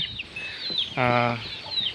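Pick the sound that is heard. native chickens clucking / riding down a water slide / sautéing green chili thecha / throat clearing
native chickens clucking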